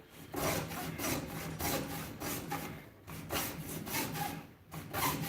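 A hacksaw with a bimetallic blade cutting through a tool handle near the tang, steady back-and-forth rasping strokes at a regular rhythm, close and moderately loud.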